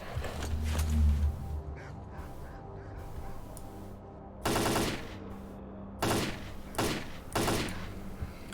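Fully automatic gunfire in the shooter game STALKER: Call of Pripyat, several short rattling bursts between pauses over quiet ambient game background.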